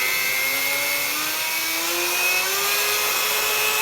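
A rotary tool fitted with a drill bit whines steadily as its speed is raised gradually, the high-pitched tone climbing in pitch over a few seconds, close and continuous, with no speech.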